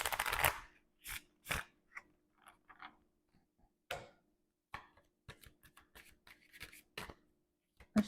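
Tarot cards are shuffled by hand in short irregular bursts of papery riffles and soft taps, close and quiet, separated by brief silences.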